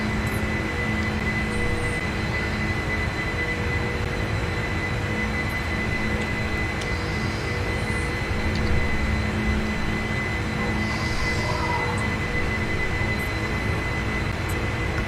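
A heavy four-engine jumbo jet, a Boeing 747, roars steadily through a takeoff and climb from a short runway, its broad continuous engine rumble heard from inside the cabin with no talk.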